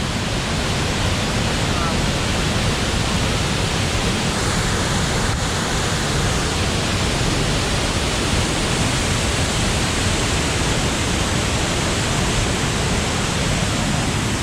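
Upper tier of Ellen Falls, a waterfall heard from a clifftop vantage, roaring as a loud, steady broadband rush of falling water that holds constant without break.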